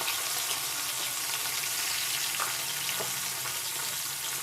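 Corn kernels for American crispy corn fry in hot oil, giving a loud, steady, dense sizzle that runs unbroken throughout with no voices.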